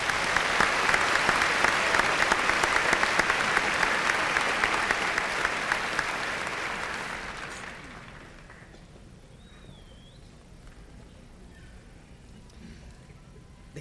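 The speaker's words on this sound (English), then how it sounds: "Let's give these people a round of applause." Audience at a 1999 Russellville High School graduation ceremony applauding, a loud, dense roar of clapping that fades after about seven seconds into quiet room tone with faint voices.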